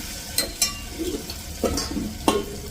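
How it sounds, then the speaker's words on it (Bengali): Spices frying in a pan, a soft sizzle broken by several scraping stirs and light clinks of a utensil against the metal, close and without talk. "এদিকে মশলা ভাজা হয়ে গেছে"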